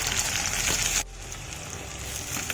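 Onions frying in hot oil give a steady, close sizzle that is loud for the first second, then drops to a quieter, continuous crackle.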